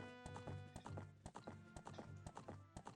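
Epona, the horse in Zelda: Ocarina of Time, trots with loud, crisp, rhythmic hoofbeats over a game music backdrop, with a whinny-like tone mixed in.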